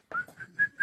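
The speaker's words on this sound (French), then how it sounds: "je sifflote" A person whistles a short tune in a French radio talk-show studio: a few clear, bright whistled notes in quick succession, close and fairly loud, with no talking.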